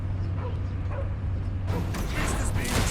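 Cosmo the dog from the Guardians of the Galaxy video game barks and yips amid a dense, noisy combat soundscape, the dog sounds fairly close but partly masked by a low hum and bursts of noise.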